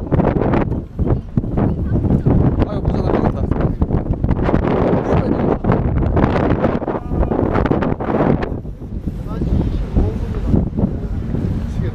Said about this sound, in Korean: 아따 바람 많이 부네.